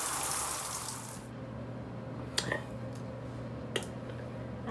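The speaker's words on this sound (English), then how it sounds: "So I turn the shower on." Shower switched on at home, water hissing and spraying steadily after a brief rush, with a couple of soft bumps and knocks partway through.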